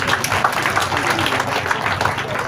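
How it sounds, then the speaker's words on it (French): Audience applause at a tribute event for mothers in Jacqueville, a steady dense patter of clapping from a crowd that fills the whole moment without a clear start or stop. "Ah mais il faut applaudir."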